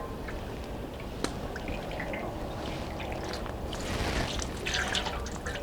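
Oil is poured into a hot cooking bowl with a steady, close hissing trickle and scattered drips and crackles that grow slightly busier toward the end.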